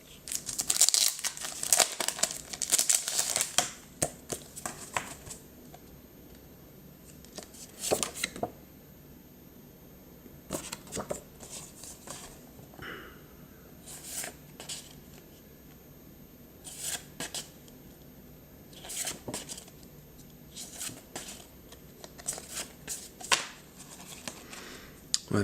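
Small cards from an Insidious lenticular steelbook set handled up close, with crisp papery flicks, slides and crinkles coming in scattered bursts between quiet pauses, and brief talk now and then.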